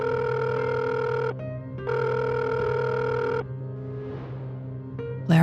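A telephone rings back after a number is dialed: two long, steady electronic ringing tones separated by a short gap, then quieter shifting tones and a sharp click at the end.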